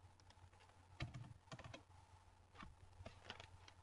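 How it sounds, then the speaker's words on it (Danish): A full name typed on a computer keyboard, a few quiet bursts of key clicks with short pauses between them. "Skriver fulde navn her."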